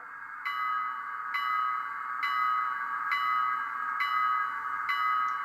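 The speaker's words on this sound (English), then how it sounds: "The bell is nice and crisp." The bell of a Bachmann N scale Berkshire 2-8-4 model steam locomotive rings repeatedly in an even rhythm, six clear metallic strikes with ringing tails, crisp and close with no voices.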